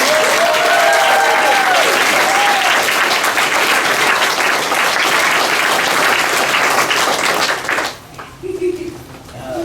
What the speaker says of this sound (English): Can we make a loud round of applause for our